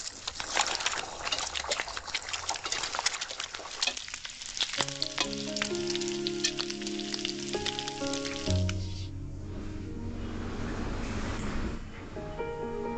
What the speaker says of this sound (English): The cooked lamb ribs are left to pan fry.